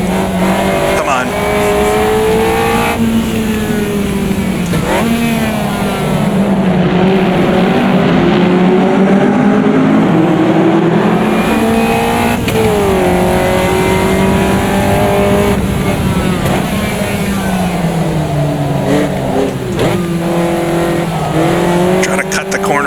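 A Caterham race car engine in Automobilista 2 at Cadwell Park revs loud and continuous, pitch rising and falling through gear changes and corners, with brief tire squeal and a voice talking over it.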